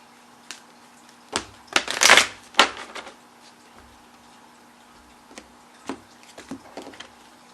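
Oracle cards shuffled by hand, giving a few soft riffling bursts and light taps up close, quiet and without talk, spaced over several seconds.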